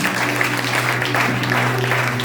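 Congregation applauding in a church, a dense, steady wash of many hands clapping together through the whole moment, with a low hum underneath.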